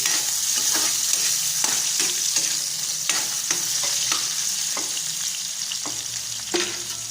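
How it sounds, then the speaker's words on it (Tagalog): Sardines frying in a pan, a steady loud sizzle broken by repeated scraping and stirring clicks from a utensil. "kapag nagluluto ako ng ganito sa sardinas"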